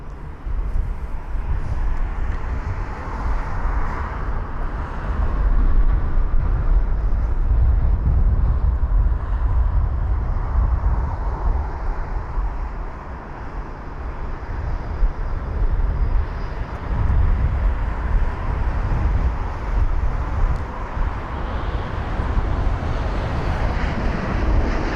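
A British Airways A321neo arriving from Dublin approaches London Heathrow, a continuous loud low jet roar and rumble that swells gently and holds throughout, with no voices.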